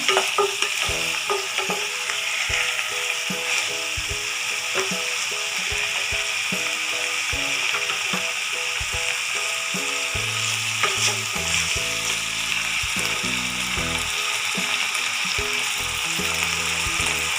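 Three onions sautéing in a generous amount of oil for poori masala, a steady close sizzle with occasional stirring clatters, no voices.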